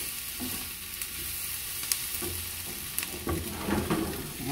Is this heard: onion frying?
yes